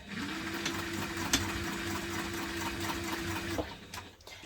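A sewing machine back stitching a hipster bag runs in one steady, close whirring burst for about three and a half seconds, then stops, with a faint click partway through.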